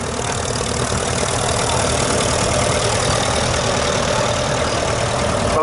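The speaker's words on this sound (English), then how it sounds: "there's a 574 International, one of the worldwide tractors" An International 574 tractor engine idling at a country fair, a continuous loud, even diesel rumble with a faint knocking texture throughout, close by and with no pauses.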